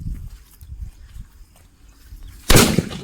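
A Kannan brand firecracker bursts outdoors with one sharp, loud bang after a few seconds of faint rustling and background noise.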